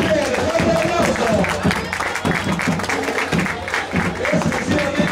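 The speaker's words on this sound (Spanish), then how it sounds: "¡Un fuerte aplauso!" A crowd applauds a junior all-boys percussion line from Colegio Santander of Guatemala at a 2009 band festival in Atiquizaya, loud sustained clapping mixed with crowd noise and voices.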